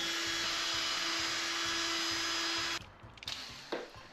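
An impact wrench runs loud and unbroken for almost three seconds during brake caliper work, then cuts off abruptly, leaving a few quieter clanks and knocks.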